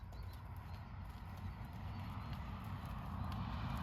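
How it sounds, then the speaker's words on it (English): Hooves of a ridden horse clip-clopping steadily during a slow riding lesson outdoors, a continuous muffled thudding gait under wind and background rumble, moderately close. "Now slow your horse down, Ella."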